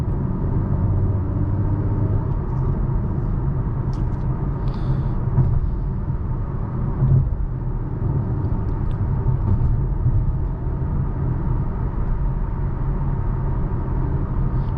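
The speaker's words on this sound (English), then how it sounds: "Road noise is about average." Steady low rumble of road and tire noise inside a 2023 Acura TLX Type S cruising along, a constant moderate drone with faint small knocks and no talk.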